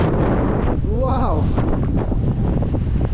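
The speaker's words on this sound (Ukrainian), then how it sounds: "Але такий вітер сильний" Strong, warm wind buffets the microphone outdoors near blueberry bushes and a wind turbine, a constant loud roar throughout with a voice briefly audible beneath it.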